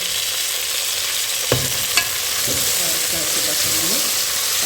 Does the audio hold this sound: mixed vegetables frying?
yes